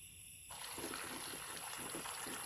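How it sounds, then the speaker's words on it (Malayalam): Water poured into a pot of cut jackfruit with turmeric and chili powder, a steady close trickle and splash that starts abruptly and runs on without talk. "ചക്ക ഇട്ട് കൊടുത്തതിൻ്റെ പകുതി വെള്ളം വെച്ചിട്ടുണ്ട്."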